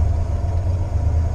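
An old pickup truck engine idles with a low, steady rumble close by, uneven and slightly rough, with no other sounds.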